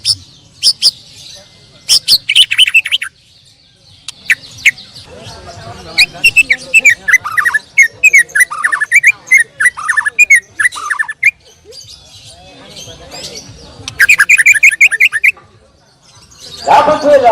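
A white-rumped shama sings in rapid bursts of loud, varied whistles, chirps and harsh squawks, phrases starting and stopping repeatedly, close and clear with brief quiet gaps between.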